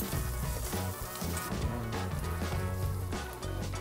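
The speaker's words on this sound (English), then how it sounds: "Let them get sizzled down and soft." Peppers frying in a hot pan, a continuous soft sizzle heard faintly behind music.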